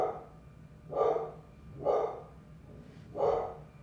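A dog indoors barks three times at an even pace, each bark a short muffled woof from a room away, with quiet gaps between and no talk.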